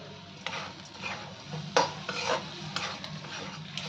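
A spoon stirs onion and spice masala with a splash of water and a pinch of sugar in a pan for a chicken dish. Irregular scraping strokes sound close, over a soft sizzle.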